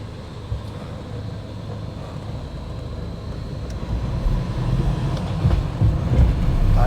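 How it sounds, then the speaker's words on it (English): A Land Rover Defender with a 2.2 engine runs on a dyno, giving a steady, loud mechanical roar that builds slightly toward the end, with no talking. "Feels much better on the dyno now."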